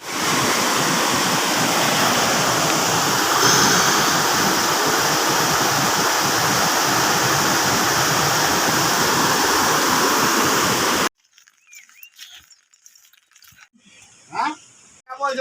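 A loud waterfall on the Sati Mata Anusuya trail roars as a dense, steady rush of water for about eleven seconds, then cuts off to near silence with faint scattered sounds.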